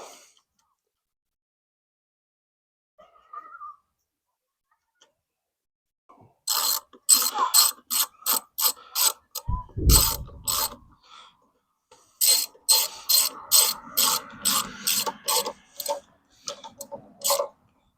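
Ratchet tightening nuts on the valve cover of a Coleman CT100U mini bike engine: two runs of rapid, crisp clicking strokes, close and clear, with short pauses between bursts and a brief low thump in between.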